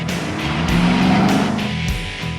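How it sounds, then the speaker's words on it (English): A 2014 Mercedes-Benz SLK 55 AMG with a 5.5-litre V8 drives with the roof down on an airstrip, its engine droning loud and steady as revs rise and fall. "I'm driving the 2014 Mercedes-Benz SLK 55 AMG"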